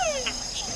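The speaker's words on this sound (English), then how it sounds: "That was a red-eyed tree frog," A red-eyed tree frog calls in a Panama rainforest, giving short clicky chirps against a dense, steady wash of insect and frog chorus, with no one talking.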